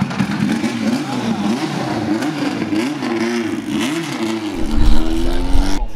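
A race car engine revs and accelerates at the Dijon circuit during the Dijon Motors Cup, loud and close with rising and falling pitch sweeps, ending in a rough low rumble.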